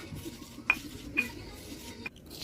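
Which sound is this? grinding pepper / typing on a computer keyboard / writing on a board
grinding pepper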